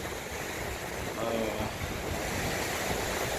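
Ocean surf at Bavaro beach in the Dominican Republic washes in steadily, a broad rushing hiss of breaking waves mixed with gusty wind noise on the microphone.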